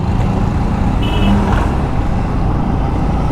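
City traffic heard from a Yamaha MT15 motorcycle: a loud, dense, continuous road roar with engine rumble, a brief high reversing-style beep near the middle, and steady wind and motor noise throughout, without talk.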